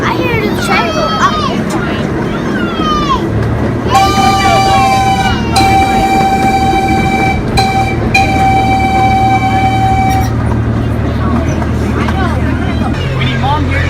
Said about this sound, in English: I hear the train go up.